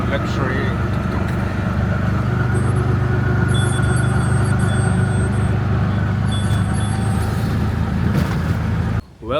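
A Sri Lankan tuk-tuk engine drones loud and steady with a low rumble from close by, and faint electronic beeps and tones sound intermittently above it before it cuts off abruptly at the end.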